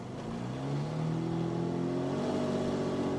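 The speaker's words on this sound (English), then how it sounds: "the sound it's leaking exhaust" An Aston Martin with a leaking exhaust revs up, its engine note climbing steadily in pitch with a raspy, breathy edge, loud and close with no talking.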